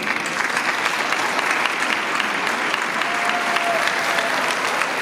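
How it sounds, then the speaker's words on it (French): Sustained audience applause at a municipal New Year's greeting ceremony in Corbeil-Essonnes, a steady dense clapping that fills the room evenly throughout without a break. "On peut les applaudir."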